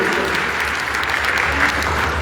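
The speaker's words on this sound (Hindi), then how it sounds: "खुशी को गाएंगे तो ताली बजाओ" A crowd at a gathering claps together in a loud, dense, continuous patter that runs throughout, close and full, with voices faintly mixed in underneath.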